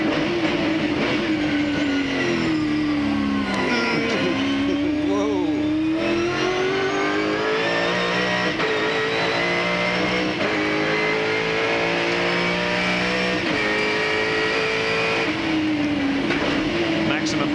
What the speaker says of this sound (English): Let's go on board with John Bow.